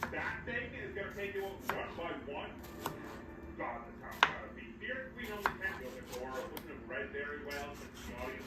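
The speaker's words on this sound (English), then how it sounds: "cut up the vegetables for the pasta salad" A knife chops vegetables for a pasta salad on a board in a home kitchen, making a quick run of irregular, crisp taps with a few sharper knocks. A voice murmurs quietly underneath.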